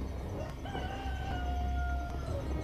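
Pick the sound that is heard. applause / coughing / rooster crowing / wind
rooster crowing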